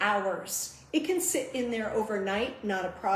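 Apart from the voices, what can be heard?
No everyday noises stand out.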